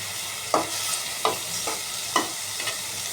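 Meat with tomato sauce stir-fried in a pan, an even sizzle under four distinct scraping strokes of a spoon, close and clear with no talking.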